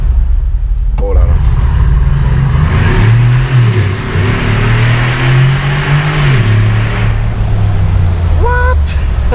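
Brabus-tuned Mercedes G-Class engine revving at a supercar show, loud and close with rising and falling pitch over a steady rumble, people talking and exclaiming over it.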